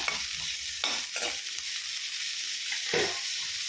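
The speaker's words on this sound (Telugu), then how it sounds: "మేము పల్లీల ఆయిల్తో చేస్తున్నాము ఇవన్నీ వేగాలండి బాగా" Ingredients frying in groundnut oil while being stirred, a steady hiss of sizzling with soft scraping stir strokes recurring through it, close and fairly loud, no voices.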